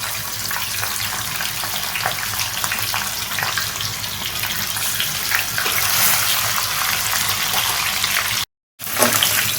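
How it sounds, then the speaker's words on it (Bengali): Katla fish heads marinated in salt and turmeric fry in hot oil, giving a steady, dense sizzle that crackles throughout at close range, broken by a brief silent gap near the end before the frying resumes. "আমি মাছের মাথাগুলো দেখো ভেজে নিচ্ছি"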